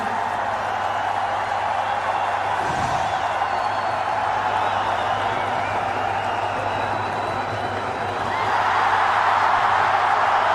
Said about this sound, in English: Home crowd love it.